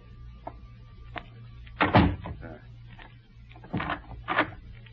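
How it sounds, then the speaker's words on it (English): A door closing in an old-time radio mystery drama, heard as a few thumping, clattering bursts against a steady low hum, with a louder knock near the middle and more handling sounds toward the end. "I will close the door."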